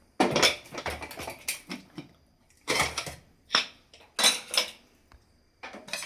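Pot of wheat kheer being lifted off a stove, with several loud metallic clanks and scrapes of the pot and utensils coming in bursts separated by short pauses, close and without talk.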